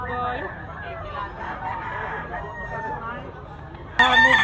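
A bullstag gamecock crows at a busy market, its long call rising over crowd noise and clucking, with people talking nearby and a louder, sharp burst near the end.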